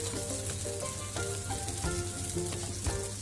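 Ground masala being sautéed in a pan for a black drumstick vegetable curry, with a steady soft sizzle and light spoon scrapes, close but quiet, alone with no voices.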